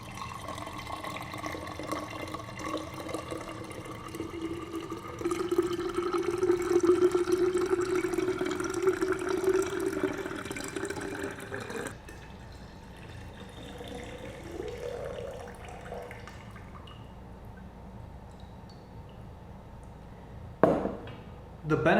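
Water pours steadily from a tap into a container for green tea lemonade, loudest midway, then stops and leaves quieter handling noise and a brief clatter at the end.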